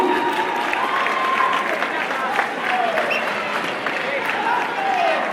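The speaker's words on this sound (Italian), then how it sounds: "Un bel applauso a questi due ragazzi che sono in terza serie" Crowd applause at a kickboxing championship bout, a steady wash of clapping filling the hall with a voice speaking over it.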